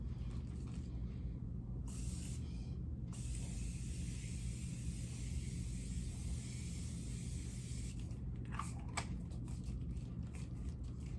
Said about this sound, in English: I'll go with the Morphe setting spray.